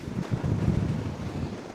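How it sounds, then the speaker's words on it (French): Strong wind roars and buffets the microphone on a bridge in the Florida Keys, a steady low rumble with some water wash, loud and continuous with no talking. "je ne sais pas si vous entendez le vent en ce moment, mais il hurle."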